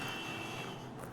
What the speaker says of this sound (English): I don't know if you can hear it, but we have an alarm going off.